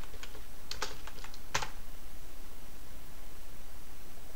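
Typing on a computer keyboard, entering a search term into a Black Lab Linux search field: a short run of close, crisp key clicks with a couple of firmer strokes, over steady background hiss, then quiet.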